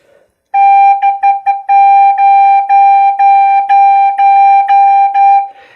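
A side-blown spirit flute holds one clear, bright pitch, played up close and loud as a run of short, separated staccato notes with small gaps between them.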